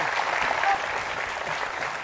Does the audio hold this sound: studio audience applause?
yes